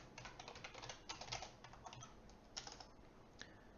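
Steady typing on a computer keyboard while writing Flutter code: a dense patter of soft key clicks with occasional louder strokes, near and fairly quiet, with no voices.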